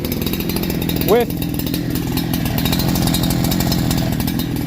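A Holzfforma G372 XP chainsaw fitted with a Walbro HD12 carburetor runs at a steady, loud idle with one brief rev, while someone talks over the engine.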